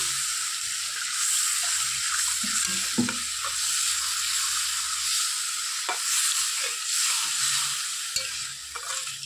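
Water poured into hot oil in a pan of cooked-down masala for a paneer dish, giving a continuous loud sizzle and hiss up close with occasional stirring scrapes, no talking.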